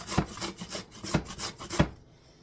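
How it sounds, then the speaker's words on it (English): Grating vegetable (zucchini) by hand for a chocolate zucchini loaf: three sharp rasping strokes close up over a soft scraping rhythm, ending in quiet. "while I'm grating the shit out of this freaking cucumber"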